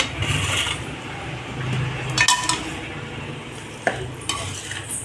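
A spatula stirs egg fried rice with lemon juice and coriander in a hot pan over a low flame, producing a steady sizzle with irregular scraping and clinking strokes close up.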